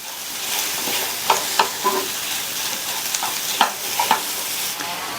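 Chopped cauliflower stirred as it fries in a pan, a steady close sizzle broken by several sharp spoon scrapes and knocks against the pan, with no talking.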